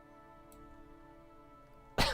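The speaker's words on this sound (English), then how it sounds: "I apologize for the coughs." A single short, sharp cough bursts out near the end after a quiet stretch of faint hum, close to the microphone during a computer strategy game session.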